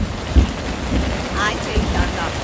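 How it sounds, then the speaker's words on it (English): Thunderstorm with steady rain falling around an outdoor gazebo by a lake, a continuous wash of rainfall with low rumbling thunder underneath, fairly loud and close, no voices. "Hear that thunder?"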